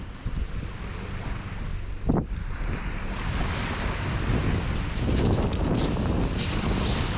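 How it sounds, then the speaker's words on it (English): Strong wind on a winter beach roars steadily and close into the microphone, buffeting it hard, with surf rumbling underneath throughout and no talking. "The wind's definitely picked up"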